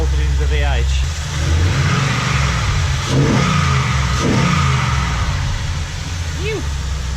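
A running LS V8 engine in a donor ute rumbles loudly nearby with a deep idle and short revving bursts, while someone talks over it.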